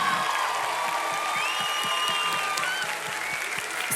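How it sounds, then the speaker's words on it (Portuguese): A congregation applauds first-time visitors during a church service, brisk clapping under a steady rhythmic pulse of background music. "Vamos dar uma salva de palmas pra essa galera."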